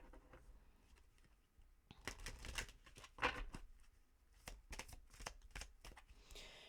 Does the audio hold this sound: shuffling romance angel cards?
yes